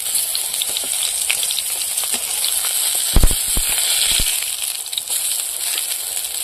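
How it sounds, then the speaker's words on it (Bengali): Pumpkin flower fritters fry in hot oil with a continuous sizzling crackle, broken by a few sharper pops and spatters partway through. "এপিট ওপিট করে বড়াগুলো ভেজে দেবো।"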